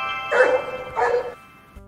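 Two short barks from a stray mother dog guarding her puppies in a Los Angeles alley, spaced about half a second apart, moderately close over a quiet background.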